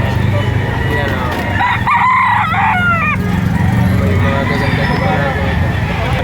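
Gamefowl crow at an outdoor livestock market in Lipa, Batangas, on a rainy day. One loud, close crow rises and falls over a couple of seconds, with steady crowd noise and someone talking around it.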